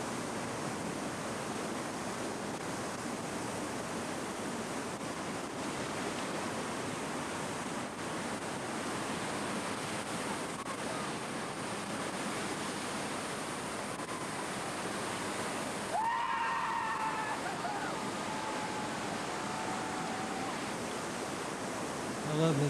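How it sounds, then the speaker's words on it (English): Hermit Rapid on the Colorado River in the Grand Canyon roars as a steady, loud wash of whitewater that fills the whole stretch without pause, with a brief faint voice-like sound partway through. "That's Hermit Rapid, by the way."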